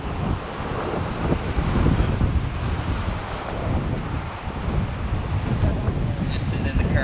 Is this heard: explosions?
no